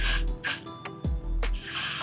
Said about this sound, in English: Or what I'm gonna do instead is spray it on this